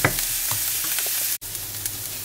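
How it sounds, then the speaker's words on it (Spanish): Onion softening gently over lowered heat in a pan for carbonara, a steady soft hiss with small crackles and a sharp momentary break midway, no talk. "la cebolla le vamos a bajar el fuego para que se poche despacito"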